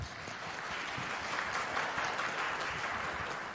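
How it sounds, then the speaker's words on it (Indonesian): An audience at a public talk in Indonesia claps steadily, a dense, continuous round of applause holding at even loudness for a few seconds with no voices on top. "Boleh tepuk tangan teman-teman perempuan dong?"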